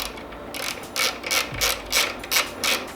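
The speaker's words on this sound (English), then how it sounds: "This time I'm going to use a socket, and we're going to take the 4 bolts" A socket ratchet clicks in quick repeated bursts while loosening bolts on an Indian Scout Bobber motorcycle seat, close up and crisp, with a rhythmic ratcheting pattern and no voices.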